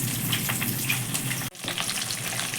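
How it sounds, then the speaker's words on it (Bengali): Fish fries in a pan with a steady, dense sizzle that cuts out for an instant and then resumes. "এই মাছ ভাজা হচ্ছে"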